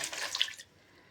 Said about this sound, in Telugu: చిన్న గ్లాస్ నీళ్ళు వేస్తాను.